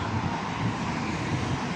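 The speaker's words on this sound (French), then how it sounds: "Quand il y a du vent comme ça" Strong gusting wind blowing through a park, a steady loud roar of wind noise buffeting the microphone with no voices.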